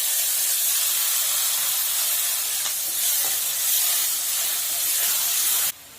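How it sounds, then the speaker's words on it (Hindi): Onion and garlic sizzle loudly in a hot pan for dry potato sabzi, a dense, steady hiss up close that drops off abruptly just before the end, with no talking. "ओकरा बाद ई प्याज अछि से दऽ रहल छियै।"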